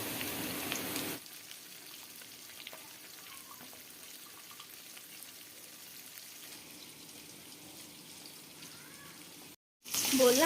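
Chopped onion and green chili fry in a home kitchen pan, a faint, steady sizzling hiss that starts after a louder opening burst and is cut briefly near the end.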